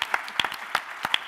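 A handful of scattered, sharp claps from an audience at a tech gadgets event, sparse and uneven, fading quickly like the tail of a round of applause.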